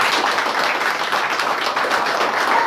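A church congregation at a water baptism service claps in a dense, steady wash of applause that holds at a constant loud level throughout, with no speech over it.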